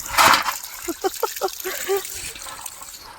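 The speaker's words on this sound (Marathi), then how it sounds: "पाणी भरायला चालू करते" Tap water runs into a container at home, a trickling, splashing flow heard close by with a burst at the start and softer gurgles after, under people talking.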